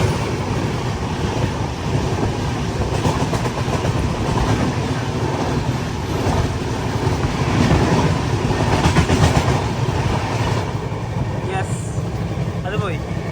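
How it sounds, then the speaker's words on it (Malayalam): Yesvantpur–Shivamogga Town Intercity Express pulling into a station, heard as a loud, continuous rumble of rolling wagons with rhythmic wheel clatter and wind buffeting close to the microphone throughout. "ഇപ്പൊ ഒരു ട്രെയിൻ വരും, Yesvantpur Shivamogga town intercity express"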